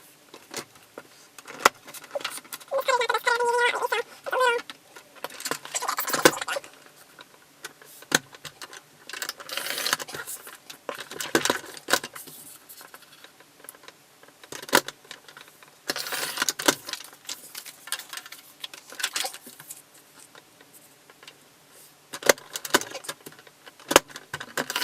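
Paper cards being trimmed down to 2.5 inches wide on a cutter: a scatter of short, crisp cutting and sliding strokes at close range, separated by quiet pauses, with no talking.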